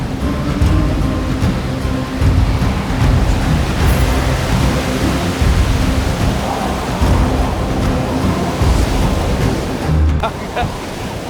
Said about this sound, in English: I think it's the wind.